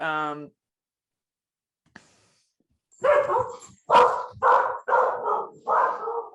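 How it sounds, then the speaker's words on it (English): A dog barks close by in a run of five or six loud, sharp barks after a short quiet stretch, with a brief voiced sound at the very start. "It's your dog"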